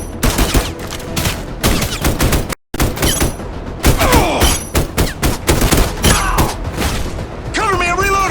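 Gunfire and a frag grenade explosion in the video game Deadswitch 3, dense loud bursts of shots and booms, with a brief silent gap and game voices or radio chatter mixed in.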